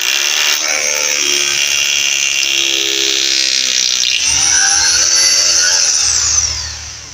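A power drill boring holes for a lattice slab joist, a loud sustained whine with shifting pitch as the bit cuts, then spinning down at the end.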